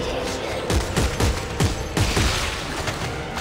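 Gunfire in Dead Space 3 on PS3 as a series of quick, punchy shots in an uneven rhythm over a dense, loud game background, with no voices.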